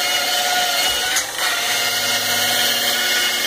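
A power polisher spinning at about 1,000 RPM buffs buildup off a black stove top, giving a continuous high whirring grind with a brief dip partway through, heard alone and close.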